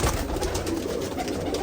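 A flock of Rampuri pigeons in a Rampur loft coos softly and steadily, a dense low warble of many birds with no voices.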